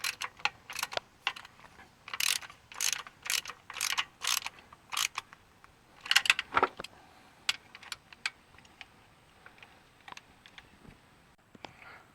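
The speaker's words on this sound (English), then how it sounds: "Got the bolts tightened all the way up." A ratchet clicks in repeated bursts while tightening starter bolts on a 2007 Pontiac Torrent, crisp close-up pawl clatter in short irregular runs with brief pauses, fading toward the end.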